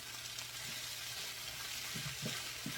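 Casserole meat in a pan sizzles and fries softly and steadily, with a few faint scraping stirs near the end.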